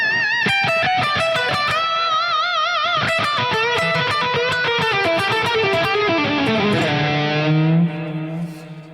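Electric guitar through a Fractal Audio processor with a long Stratocumulus reverb and ambient stereo delay, loud sustained chords and lines washing into a spreading tail that rings on for several seconds.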